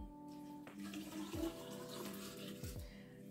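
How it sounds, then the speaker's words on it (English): Water poured onto beetroot and salt in a fermentation vessel for beet kvass, a steady close splashing and trickling that runs the whole time with a rising filling tone. "Just pour in the water."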